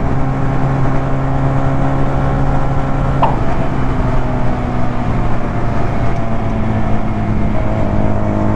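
A 125cc two-cylinder chopper motorcycle runs at full throttle in top gear around 90 km/h, a loud unbroken engine drone mixed with wind rush that holds steady the whole time.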